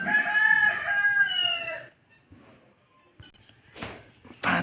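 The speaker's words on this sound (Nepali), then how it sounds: "5 किलोको भाले" A Giriraj rooster, a large five-kilo bird, gives one long loud crow close by for about two seconds, followed by quiet rustling and a few faint scuffs and bumps.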